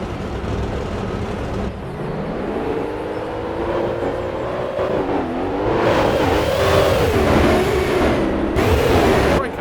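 A drag race car engine in the NHRA Championship Drag Racing game whines and revs, its pitch climbing and dipping in smooth sweeps. It grows louder over the second half and plays alone, close and sustained.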